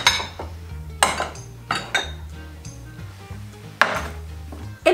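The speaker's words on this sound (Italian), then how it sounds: "Prendiamo una bella pentola capiente per raccogliere la nostra scarpetta di oggi" A large cooking pot being handled in a kitchen while making Neapolitan Genovese, with a series of sharp metallic clanks and knocks of metal against metal at an uneven rhythm, close and clear with no talking.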